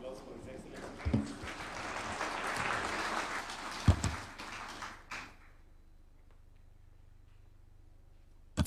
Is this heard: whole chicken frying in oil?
no